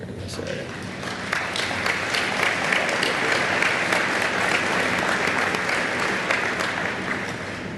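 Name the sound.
audience applause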